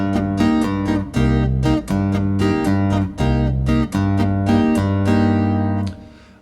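Chapman Stick groove with the bass stepping back and forth between root and fifth under steady chordal strikes, a clear repeating rhythm played alone for about six seconds before ringing off.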